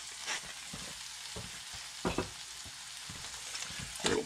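Brown trout fries in a cast iron skillet with a continuous crackling sizzle, broken by a few louder pops and spits at irregular intervals.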